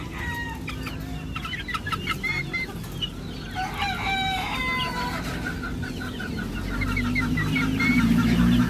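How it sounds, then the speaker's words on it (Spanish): Young chicks peeping amid clucking hens and crowing roosters in a poultry pen with birds ready for marking, a continuous dense chorus of high chirps that grows slightly louder toward the end. "estos son los pollitos que tenemos para este marcaje que viene"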